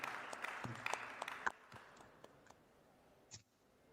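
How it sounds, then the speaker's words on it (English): Audience applause in a conference plenary hall at a mining investment forum, fairly faint and distant, thinning into scattered individual claps before dying away to near silence. "A nice round of applause to them again,"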